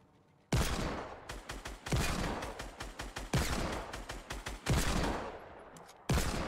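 Automatic gunfire in the Fortnite video game, several rapid bursts of shots, each lasting about a second, loud and close, separated by brief gaps with no talking.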